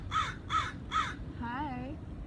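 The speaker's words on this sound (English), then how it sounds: "I have a crow just staring at me." Three loud, harsh caws from a nearby crow in steady succession, followed by a softer, wavering call that rises and falls; no talking.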